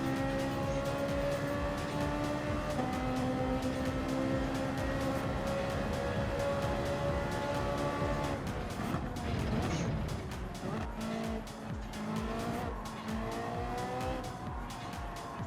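A race car engine in Gran Turismo 7, from a Lamborghini versus Ferrari race, drones loudly and continuously, with rising and falling pitch as it accelerates and shifts, plus brief tire noise midway.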